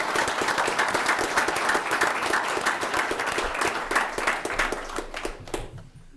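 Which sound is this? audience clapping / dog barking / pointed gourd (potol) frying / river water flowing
audience clapping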